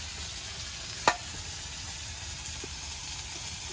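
Light meat tuna fries in hot oil, a steady, close, even sizzle that carries on throughout with one brief sharp click near the start and no talking.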